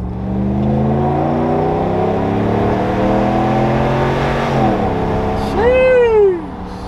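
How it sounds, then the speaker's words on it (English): A cammed single-cab pickup truck idles with a steady low exhaust drone, then revs up sharply in a loud rising and falling burst near the end. "Let's hear that exhaust."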